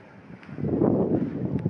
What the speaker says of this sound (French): Il faut dire que le vent s'est levé d'un coup.